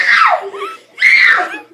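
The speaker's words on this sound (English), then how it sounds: "Don't start screaming in my house." A child screams in two loud, shrill bursts at close range, separated by a short pause.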